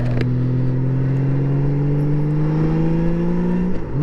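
A Honda Valkyrie motorcycle engine pulls steadily through a test ride, a loud, close, continuous drone that slowly rises in pitch as it accelerates, then dips briefly near the end.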